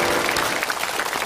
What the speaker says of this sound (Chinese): 让我们再一次的掌声欢迎三位。